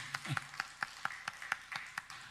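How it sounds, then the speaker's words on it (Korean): A small church congregation claps in a quick, even rhythm, about ten sharp claps, fairly faint and close together. "하나님께 영광, 장로님에게 축하 박수"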